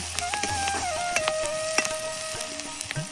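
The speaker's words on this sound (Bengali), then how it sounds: "এখন এই যে পেঁয়াজ মরিচ ভেজে নেওয়া হচ্ছে" Onions and chillies frying in a pan at a farmhouse kitchen, a steady bright sizzle with small crackles and pops throughout, alone without talk.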